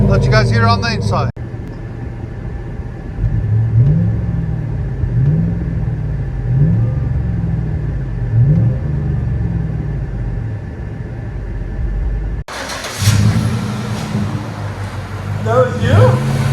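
From inside the cab of a 2008 GMC Yukon with Flowmaster Super 10 exhaust, the V8 idles as a muffled drone, then revs several times in quick succession. Near the end it cuts to a louder, brighter rumble with another rev.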